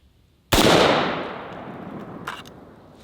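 A single sharp, loud AR-15 rifle shot cracks out at close range and strikes a kettlebell, trailing a long fading echo with a faint metallic tick shortly after.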